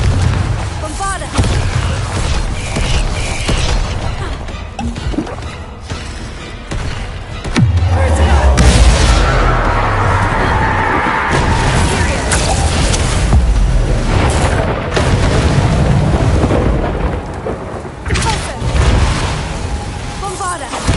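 Spell explosions from Bombarda and Confringo in the video game Hogwarts Legacy: loud booming blasts and crackling impacts layered over continuous battle noise, heaviest around the middle, with a voice calling out over the action.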